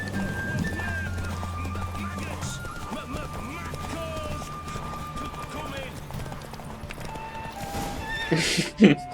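Roach, the horse in The Witcher 3, gallops with rapid clip-clopping hooves and whinnies, while a game voice talks over it and a louder burst closes the run.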